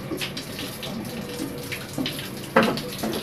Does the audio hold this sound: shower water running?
yes